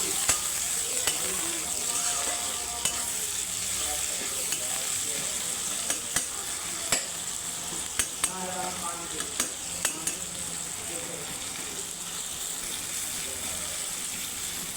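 Chopped ginger sizzles steadily in a hot oiled pan while cooking chicken keema, with the sharp clicks and scrapes of a stirring spoon breaking through the constant close hiss.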